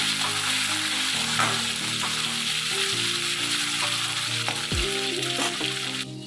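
Vegetables fry in rendered chicken fat in a pan for a chicken and potato curry, a loud continuous sizzle with occasional stirring knocks and scrapes, and no voice.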